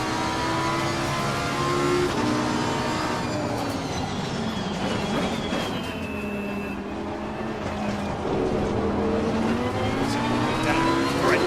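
Racing cars in the Assetto Corsa Competizione video game run around turn 7 toward the chicane. Their engines whine loudly and steadily throughout, rising and falling in pitch as they change gear.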